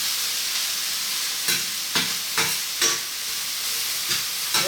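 Onions fry in a pan with a steady close hiss, broken by a handful of soft stirring scrapes every half second or so, with no talk.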